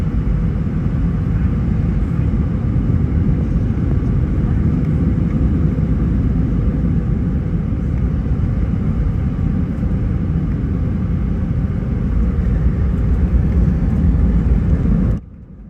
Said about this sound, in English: These 2 Delta planes landing at the exact same time at an airport in Atlanta.